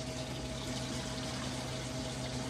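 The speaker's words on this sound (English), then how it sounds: "it says now just to cover the cucumbers with water" Water pours steadily into a non-aluminum bowl of cut cucumbers, a dense continuous rush and gurgle, close and even, with a faint mechanical hum beneath.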